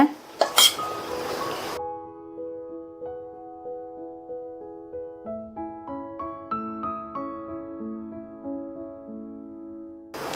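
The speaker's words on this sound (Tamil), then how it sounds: "தண்ணிய கொஞ்சம் கொஞ்சமா சேர்த்து ஒரு ஸ்பூன் வச்சு நல்லா இந்த மாதிரி கிண்டி கொடுங்க." A spoon clinks and scrapes rhythmically against a metal pot, stirring kozhukattai dough with added water, steady repeated strokes after a brief louder rattle at the start.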